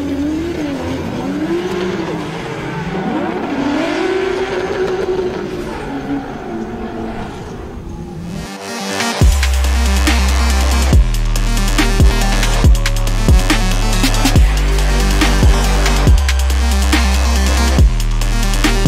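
A BMW E30 drift car screams through a qualifying run, tyres squealing and engine revving hard, with loud rhythmic bursts of acceleration and skidding under blaring music.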